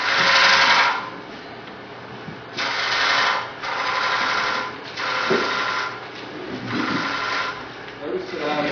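A wood turning tool cuts a wooden platter on a lathe, working toward the center in loud rasping bursts separated by short quieter pauses.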